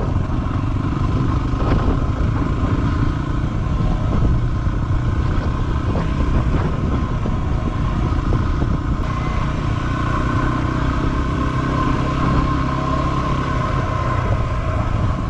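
A Yamaha WR250R motorcycle ridden along a dirt road, a steady close engine drone with continuous rumble and rattle, no voices.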